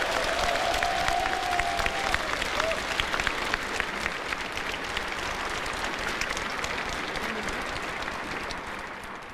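A large crowd at a national Liberation Day ceremony claps in a sustained, even roar of applause, heard from some distance and fading slightly toward the end.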